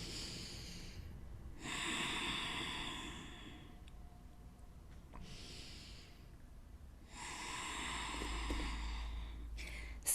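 Slow, deep breaths during a vinyasa yoga flow, two long airy exhales at a steady pace, close and soft with a faint low hum underneath.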